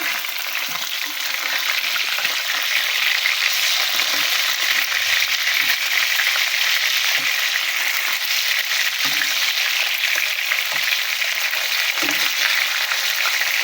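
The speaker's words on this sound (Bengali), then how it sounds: "হালকা ভাজি করবো বেশি কড়া ভাজি করবো না" Continuous bright sizzle of koi (climbing perch) fish lightly frying in a pan, constant and close, with scattered faint crackles and no speech.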